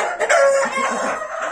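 A rooster crows in one loud, drawn-out call that rises and holds before trailing off, close by and with no talk over it.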